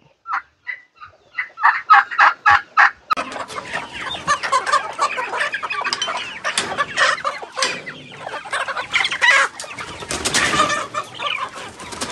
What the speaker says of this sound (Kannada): ನಮ್ಗೆ ಸುಸ್ವಾಗತ ಕೋರಕ್ಕೆ ಬರ್ತಾ ಇದೆ ಟರ್ಕಿ ಕೋಳಿಗಳು.